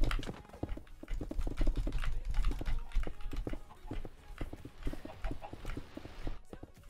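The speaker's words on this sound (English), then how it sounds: "I'm spam clicking." Rapid spam clicking of a computer mouse while gaming on MCC Island in Minecraft, a fast irregular run of sharp close clicks in bursts.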